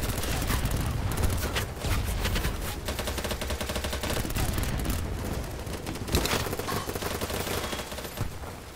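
Dense, continuous gunfire and automatic bursts in a video game involving a helicopter, loud and close throughout with heavier blasts cutting through the clatter.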